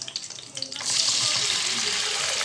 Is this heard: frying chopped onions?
yes